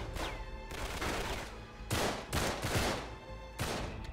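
Gunfire in the video game Uncharted 3, several loud bursts of rapid shots separated by brief gaps, close and dense, with no talking.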